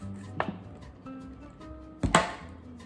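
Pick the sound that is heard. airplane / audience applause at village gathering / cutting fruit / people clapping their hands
cutting fruit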